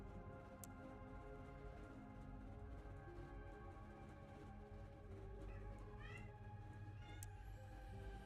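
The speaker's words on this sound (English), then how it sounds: "Some cat is freaking out." A cat freaks out, giving a few faint, distant meows and yowls under a steady low hum and background drone, with soft ticking sounds scattered throughout.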